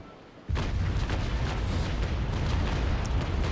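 Ship cannons and carronades fire a broadside in the naval sailing game Naval Action: after a brief quiet start, a sudden loud eruption of overlapping booms rolls on continuously as many guns discharge together.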